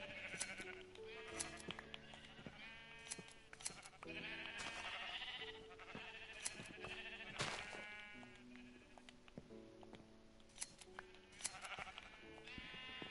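Repeated sheep bleats in Minecraft on PS4, several animals calling one after another in quick succession, fairly close and clear with a game-like backdrop.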